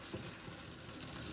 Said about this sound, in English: I'm going to carry this over to the sink and pour this into the colander